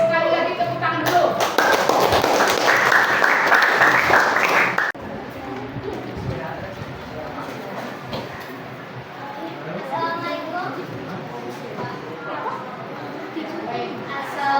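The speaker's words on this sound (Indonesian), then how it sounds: "sekali lagi tepuk tangan dulu." An audience claps at an academic coaching and supervision session. A dense burst of applause lasts about four seconds, then drops away under people talking.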